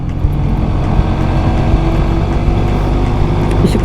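A motorcycle engine drones steadily on a road ride near Toulon, loud and close with wind noise, the rider having just shifted into fourth gear; no distinct gear change stands out.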